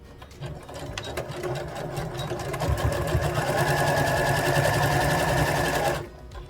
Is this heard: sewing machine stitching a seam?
yes